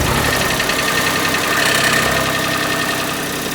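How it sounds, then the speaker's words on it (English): A Smart ForTwo 451 engine runs at a steady idle close by, a continuous mid-pitched mechanical hum with a slight rattly texture and no talk over it. "I can now start the car up."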